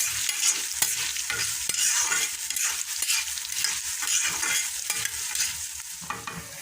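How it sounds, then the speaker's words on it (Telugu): Coriander seeds dry-roasting in a pan while being stirred, giving a steady crisp sizzling rustle with occasional light scrapes and clicks of the spoon, close up and without speech. "సో ధనియాలను కూడా అంతే దోరగా చక్కగా మంచి సువాసన వచ్చేంత వరకు వేయించుకోవాలి."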